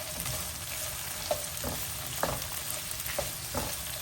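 Paneer cubes sizzle in a hot pan for restaurant-style chilli paneer, with a constant frying hiss broken by several sharp scrapes and clinks of a utensil stirring the pan.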